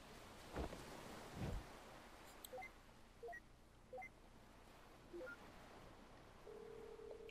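A phone being dialed in the game To the Moon gives a short run of faint, evenly spaced electronic tone beeps, followed by a sustained ringing tone near the end, over quiet background with a couple of soft thumps.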